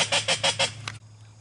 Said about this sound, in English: They're ducks, but I don't know what they are.